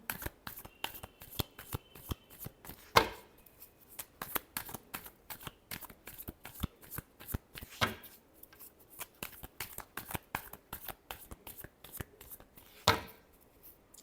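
Playing cards are shuffled by hand in quick, soft riffling bursts with crisp flutters and taps, close and quiet throughout.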